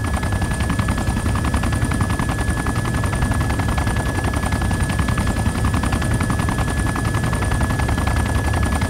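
Sustained automatic gunfire in the military game ArmA 2, a loud, steady stream of rapid shots with no pause, backed by a constant high whine and no voices.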